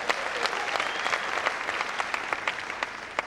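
An audience at the National Youth Summit in Kenya applauds, a steady wash of many hands clapping with a few sharper individual claps standing out.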